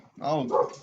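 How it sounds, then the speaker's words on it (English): A dog lets out a single short bark, close by and moderately loud, heard on its own without talk over it. "Already got dogs barking right at the very start of the warm up."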